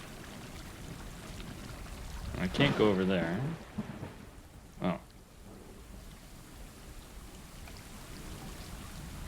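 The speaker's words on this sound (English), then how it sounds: "Well, it's raining." Rain falls steadily in the video game Stray with a low rumble of thunder underneath, while someone speaks briefly over the constant hiss.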